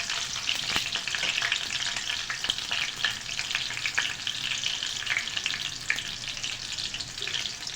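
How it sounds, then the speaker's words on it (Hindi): Chopped garlic frying in hot oil in a pan until brown for a tadka-style base, a steady dense sizzle with faint stirring scrapes, running continuously and fairly close with no talk. "लहसुन को बिल्कुल जिस तरह भगार के लिए ब्राउन करके हम फ्राई करते हैं ना, बिल्कुल इसी तरह हमने इसको फ्राई करना है।"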